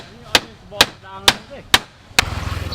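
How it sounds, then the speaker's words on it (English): A mechanic strikes the metal body of a tuk tuk with a hammer, five loud, sharp knocks spaced about half a second apart, close by, followed by a rattling mechanical drone, with faint talk underneath. "You feel all this guy knocking on it with that hammer."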